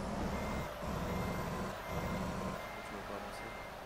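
A Kenworth truck in American Truck Simulator backs up with its reversing alarm, a steady repeating beep over the engine's loud low drone, with a brief hiss of air brakes.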